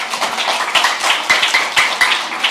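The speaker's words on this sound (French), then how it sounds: "vous pouvez vous applaudir" A small live audience at a French music interview applauding, a close, lively patter of hand claps with uneven rhythm that carries on steadily with no talk over it.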